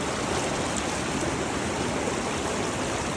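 Fast-flowing river crossed in a dark forest at night on a trek toward Snow Lake in Pakistan, a steady loud rushing roar of water with no other sounds.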